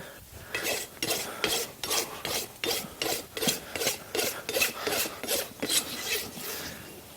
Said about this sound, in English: the majority of my rasping has been done on the front part of the foot